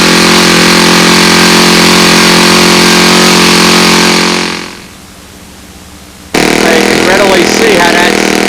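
A four-stroke model aircraft engine runs loud and close with a high buzzing drone, briefly drops away for a couple of seconds, then roars back at full volume.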